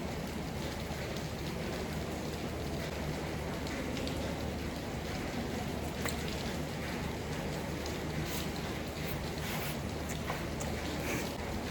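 Steady rain falls and patters on surfaces, a continuous broadband hiss with scattered drops, no voices.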